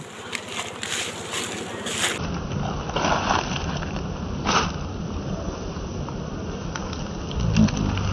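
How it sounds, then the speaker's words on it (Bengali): Bees swarming around a hive during honey collection make a steady, close insect buzz inside a broad, dense drone that runs the whole stretch, with a few louder swells. "আমার মাথায় একটা মাছি পড়ছে, আমার কি কামড় দেবে নি কাকা?"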